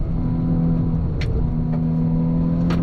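Hyundai i20 N engine held at full throttle on a race track, a loud steady drone with strong low harmonics running unbroken throughout, with brief higher mechanical whines cutting in twice.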